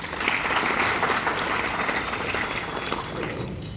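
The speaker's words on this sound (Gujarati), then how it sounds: "આ 8 વિદ્યાર્થીઓ માટે ફરી તાળીઓ થઈ જાય" An audience claps steadily for eight blind students at a school event for the blind, the applause dense and sustained throughout, easing slightly toward the end.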